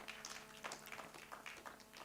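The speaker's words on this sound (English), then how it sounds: "A better round of applause for him." Audience applause at the East African Civil Society Summit 2024, heard as a faint, distant patter of many hands clapping steadily for about two seconds with no break.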